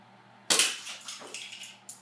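A UTG L96 airsoft rifle fires a single shot whose BB strikes a target near a bucket, giving one sharp close crack followed by a few fainter clattering ticks and rattles.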